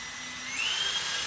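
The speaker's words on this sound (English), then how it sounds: "I'm just going to screw these two together, and then toenail" Power driver whining as it sinks deck screws into wooden wall framing, its pitch climbing as the motor speeds up, loud and close with no voices.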